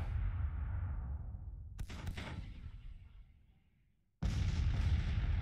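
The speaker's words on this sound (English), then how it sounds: "our guys, artillery over here are firing" Civil War artillery in the strategy game Grand Tactician: a deep rumbling boom fades out slowly, a sharp crack cuts through midway, then another heavy blast bursts in loudly near the end.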